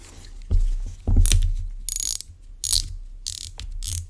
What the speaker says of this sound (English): it's got a really nice muted but audible drag clicker.